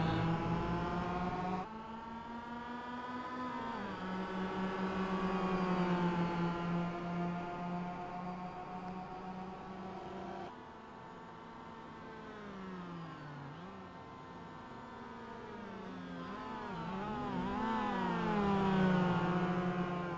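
Two Mazda MX-5 race cars, one in Oakley livery and one in Ragu livery, racing in a sim game, engines droning and revving steadily with rising and falling pitch through gear changes, close and continuous.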